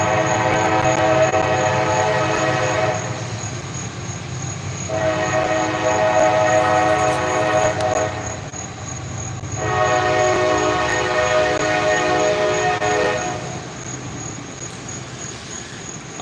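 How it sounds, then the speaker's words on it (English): A train passes close by, its horn sounding in long repeated blasts with rumbling wheel noise underneath throughout, loud and continuous with no talk. "we got a train coming and I can't hear"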